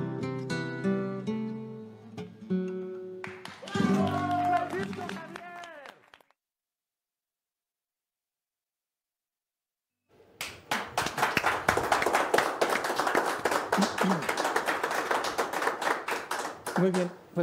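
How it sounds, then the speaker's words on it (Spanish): Audience applause for a singer-songwriter at a Pachuca social event, a loud sustained burst of many hands clapping that follows a stretch of guitar and singing and a short silence. "pues un aplauso, es sincero y muy merecido"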